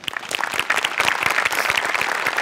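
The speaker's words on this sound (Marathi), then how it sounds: "दोघांसाठी टाळ्या" A studio audience claps loudly for two performers on a Marathi comedy show. The dense, continuous applause has no talk over it.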